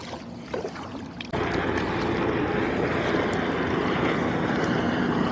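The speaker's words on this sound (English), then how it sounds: "That's one of the NYPD helicopters." An NYPD police helicopter's loud, steady rotor and engine roar suddenly swells in close overhead along a Brooklyn shoreline and keeps going, drowning out the quieter engine noise before it.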